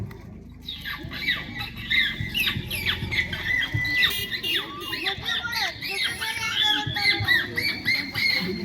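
A person imitates a parrot with rapid, high squawks and chirps over a busy background of crowd noise and clatter.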